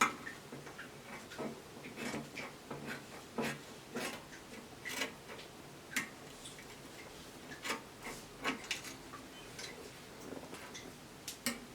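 Fabric being cut with scissors for a pencil collar dress, a quiet run of repeated snips and soft rubbing clicks in an uneven rhythm, close but faint, with no talk.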